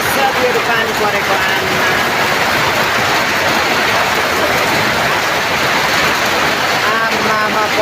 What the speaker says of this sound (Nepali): यो खालको पानी पर्दैछ है हेर्नुहोस्